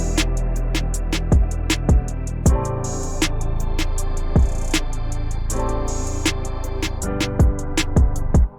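A reversed, gated pad one-shot called Fractured from the Mercury kit plays as a steady rhythmic stream of swelling chopped hits that cut off sharply, looping for several seconds with no voices.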